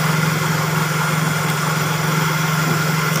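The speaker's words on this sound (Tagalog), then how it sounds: "Tahimik yung makina guys." A 1991 Nissan car engine idling quietly and steadily, a constant low hum with a strong tonal drone, close and uninterrupted, no talk.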